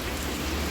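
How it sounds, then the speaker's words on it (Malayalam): Heavy rain pours during a beach trek at Gokarna, a dense, steady hiss of downpour filling the short stretch with no voices. "ഒടുക്കത്തെ മഴയാണ്."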